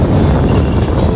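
Strong wind and rain at the seaside in Ilocos Norte, heard as a loud, steady roar of wind buffeting the microphone with surf noise beneath, no talk.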